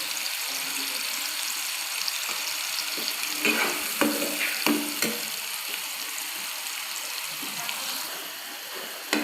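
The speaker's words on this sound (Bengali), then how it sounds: "তো এটাকে আমি হাই ফ্লেমে ভাজছি।" Chickpeas with a little salt frying over high flame in a pan for Dhaba-style chole, a steady broadband sizzle with a few sharp stirring clanks in the middle, close and continuous, no talking.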